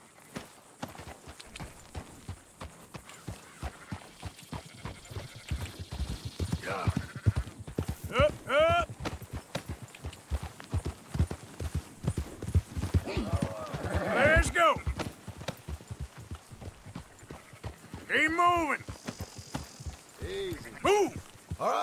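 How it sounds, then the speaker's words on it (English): In Red Dead Redemption 2, horses trot with steady rhythmic hoof clip-clops throughout while sheep bleat in several wavering calls; characters talk over the scene. "Marston, why don't you leave the sheep to me?"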